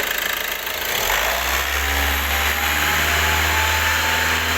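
A car engine idles, then revs up about a second in and holds a loud, steady high-revving drone, close by, with no talking.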